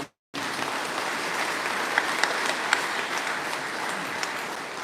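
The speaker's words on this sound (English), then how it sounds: "big hand of applause" Applause from a crowd at a Guam park police reserve ceremony, a dense, even wash of many hands clapping that starts after a brief silence, with a few sharper claps standing out.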